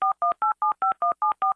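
A rapid sequence of nine telephone keypad dialing tones, each a steady dual-pitch beep lasting about a tenth of a second, evenly spaced, loud and close with no talking.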